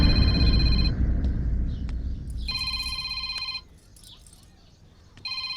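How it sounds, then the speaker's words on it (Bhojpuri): A telephone rings in a Bhojpuri film scene, electronic ring tones in repeated bursts with pauses between, heard over a muffled rumbling background. "अरे ये तो दीक्षा का फोन फिर से।"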